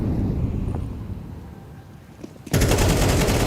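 Pistol gunfire rings out through smoke grenades in a Counter-Strike pro match at IEM Katowice 2025. A quiet, windy lull gives way to a sudden, loud, sustained stretch of rapid overlapping shots.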